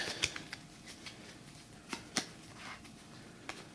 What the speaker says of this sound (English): I need to shuffle that into the deck and get a new hand.